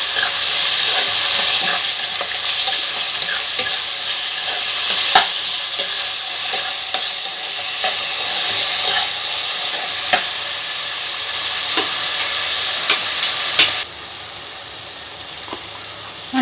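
Onions, green chillies, mint, coriander and tomato frying in a pan for ragda chaat, with a loud close sizzle and frequent stirring scrapes and knocks that drop sharply quieter near the end.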